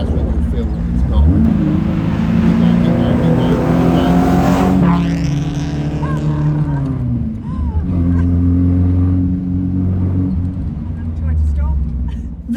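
Lotus-engined Ford Consul Capri pulling hard at full throttle in second gear, its engine note climbing steadily, dipping at a shift, then rising again loud and close under ongoing talk inside the car.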